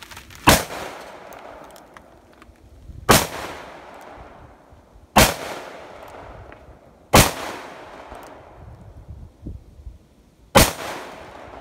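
Five sharp, loud revolver shots ring out one at a time a few seconds apart, each followed by a brief decaying echo, with no talking in between.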